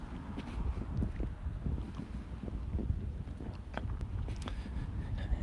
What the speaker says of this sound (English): A little bit windy, but not too bad. Nothing I can't handle or the windscreen can't handle.